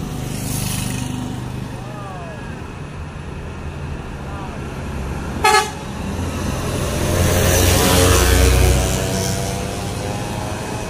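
A Gumarang Jaya Pangeran big bus with a front-mounted engine rumbles nearby, its low drone swelling louder toward the end, with one brief sharp tonal blast midway and faint voices in the background.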